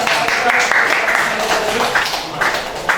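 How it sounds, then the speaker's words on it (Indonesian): A high school classroom applauds a student group, with brief scattered clapping mixed with students' voices and chatter. "tepuk tangan buat kelompoknya Pak Udan"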